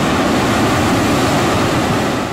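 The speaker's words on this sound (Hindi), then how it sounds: "बलूचिस्तान की साहली पट्टी गडानी और सोनमियानी में भी लहरें ऊंची हो गई, पानी सड़कों पर आ गया" High sea waves crash along the Balochistan coast at Gadani and Sonmiani, giving a loud, continuous roar of surf mixed with wind noise and no voices.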